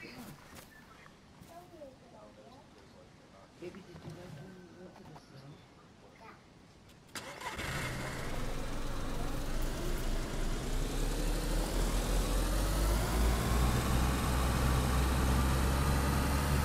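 A car engine in the DayZ video game fires up abruptly partway through after quiet talk and game ambience, then runs loud and steady, with a deep rumble continuing to the end while a voice speaks over it.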